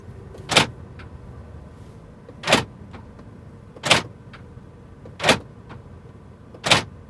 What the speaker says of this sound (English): So if you close the car,